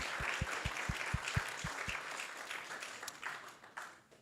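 Applause from a devotional gathering's audience for the kirtan musicians, a soft, fairly distant patter of many hands, with a few low rhythmic thumps like a drum or hand beats early on, fading out toward the end.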